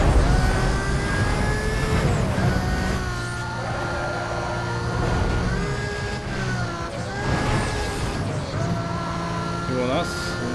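Race car engine droning steadily in the racing video game NFS Most Wanted, a continuous loud roar with shifting pitch as the car drives, with someone talking over it throughout.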